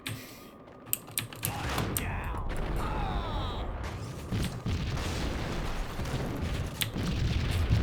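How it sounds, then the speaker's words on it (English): Explosions in the video game Max Payne, booming blasts and debris crashes mixed with sharp clicking impacts and rumbling, some bursts louder than others across a continuous noisy stretch. "Things are just exploding."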